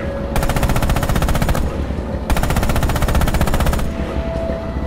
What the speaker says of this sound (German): Schießen Sie mit dem Koax-MG auf diese Ziele.